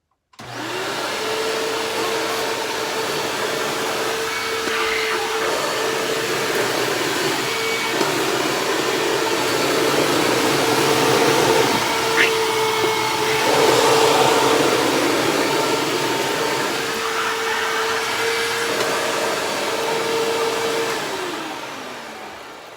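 A Hoover WindTunnel self-propelled upright vacuum cleaner runs one pass over carpet, starting up and holding a loud steady whine and roar with small pitch shifts as it moves, then winding down at the end.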